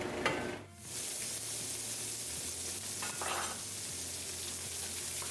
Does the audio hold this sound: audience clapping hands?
no